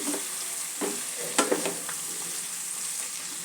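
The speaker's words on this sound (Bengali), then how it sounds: "সবজিগুলো মিনিট খানেক ভেজে নিয়ে" Vegetables sizzle steadily in a hot pan while preparing a quick Bengali fish curry, with a few sharp scraping stirs of a spatula breaking through the continuous frying hiss.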